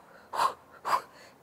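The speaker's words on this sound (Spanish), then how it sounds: "Mantener la respiración corta" Two short, forceful exhalations from a person doing explosive standing abdominal twists, spaced about half a second apart, close and fairly faint, with no talking.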